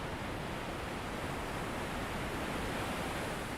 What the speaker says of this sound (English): Listen to the sound of the water again